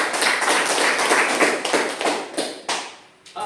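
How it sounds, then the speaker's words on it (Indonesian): A classroom of students claps hands together at a teacher's prompt. The clapping is loud, close and dense, with rapid overlapping claps that thin slightly near the end. "Tepuk tangan dulu."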